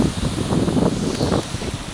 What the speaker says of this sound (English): extremely high gusts of wind here.